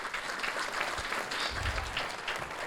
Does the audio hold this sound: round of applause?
yes